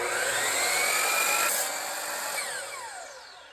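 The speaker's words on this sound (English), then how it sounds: "With the miter saw" A miter saw blade whines loudly through a wooden block, a steady high-pitched cut that eases off as the blade winds down after about a second and a half.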